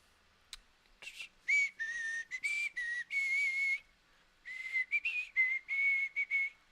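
A person whistles a tune up close, a run of clear sustained and short notes in two phrases separated by a brief pause, with no talking.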